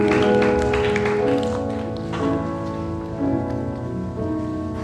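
A church youth retreat audience gives sustained applause for God, a dense patter of clapping with musical chords ringing underneath, fading a little and then swelling again.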